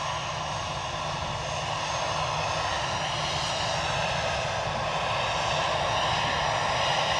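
An easyJet airliner passes at Edinburgh Airport with a continuous, loud engine roar and a broad, steady rushing whine that builds slightly toward the end, heard alone without talk.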